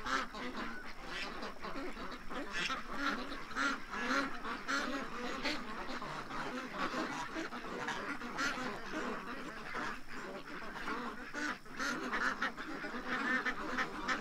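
A flock of ducks and geese being fed quack and honk continuously, busy overlapping calls close by for the whole stretch, fairly faint overall.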